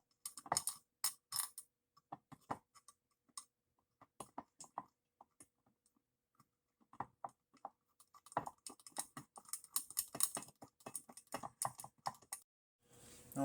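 Bolts go back into the clutch of a 1999 Yamaha V-Max 500 SX snowmobile, with sparse metallic clicks and ratcheting taps in bursts separated by quiet pauses, close and faint.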